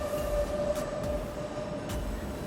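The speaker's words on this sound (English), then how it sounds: "Instead of the subway, it's called the L train, since the entire system is elevated." A Chicago elevated L train rolls past with a steady rumbling roar, a faint squealing tone and occasional clacks, fairly close and continuous throughout.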